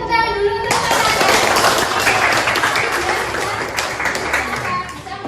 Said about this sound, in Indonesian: Oke, tepuk tangan dulu untuk Fatan.